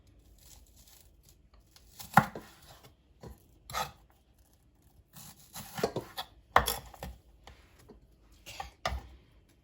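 A knife chops vegetables on a board in scattered bursts of crisp cuts and scraping strokes, close and fairly quiet between the chops.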